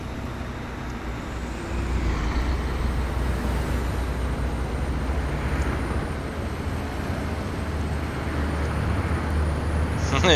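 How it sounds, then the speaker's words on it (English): Steady traffic and truck drone from Euro Truck Simulator 2 with a realistic sound mod, a loud continuous engine and road rumble that swells slightly after the first couple of seconds, with a faint high whine above. "Yeah, the traffic."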